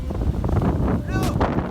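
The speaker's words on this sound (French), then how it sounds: "Aujourd'hui on se retrouve sur la pointe du Croisic avec beaucoup de vent." Strong wind on the Pointe du Croisic coast in Brittany buffets the microphone with steady low roaring and gusts, and a brief higher cry cuts through near the end.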